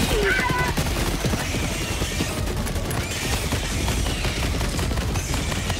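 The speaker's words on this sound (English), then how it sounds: "Oh, that Gatling barrage is so close." An orbital Gatling barrage in Helldivers 2 pounds the ground close by, a dense, continuous rattle of rapid gunfire and impacts that fills the whole stretch at high volume.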